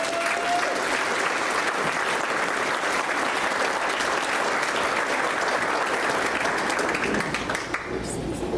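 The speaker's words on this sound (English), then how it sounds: "Give Debbie a good round of applause" A full round of audience applause at an Iowa business event, dense and continuous, trailing off slightly near the end.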